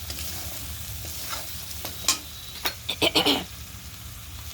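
Fish and greens frying in a pan, with a light continuous sizzle and a cluster of sharp scraping, clattering stirs near the end.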